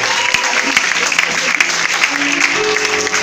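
Congregation in a French-speaking church service applauding and cheering, a dense continuous wash of clapping with crowd voices steady throughout.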